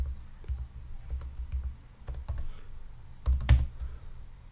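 Keys clatter on a computer keyboard as code comments are typed, irregular bursts of close clicks with short pauses and a louder flurry near the end, no voices.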